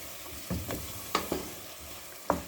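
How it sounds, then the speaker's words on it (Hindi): Ground onion paste frying in a pan with tomato paste, soft sizzling with a few brief scraping stirs, quiet and close with no talking. "इसको अब हमने भूनना है टमाटर वाली पेस्ट के साथ।"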